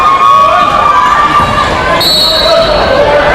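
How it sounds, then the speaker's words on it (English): Cheerleaders and fans cheer in a steady, loud crowd roar at a junior varsity boys basketball game in a gym, Beekmantown against Plattsburgh, with a sustained wash of voices and some higher shouts. "a good crowd of fans behind them doing some cheering"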